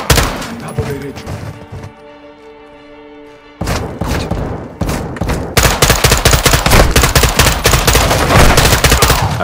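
Rapid bursts of loud gunfire in Call of Duty: Modern Warfare 2, with single shots first, a brief lull, then sustained automatic fire rattling on densely to the end.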